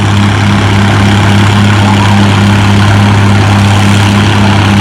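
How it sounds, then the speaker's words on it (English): An Oliver 77 tractor pulls a weight sled at a tractor pulling event, its engine droning loud and continuous with a steady low throb that stays close throughout. "As we turn around, we see an Oliver 77 on the sled."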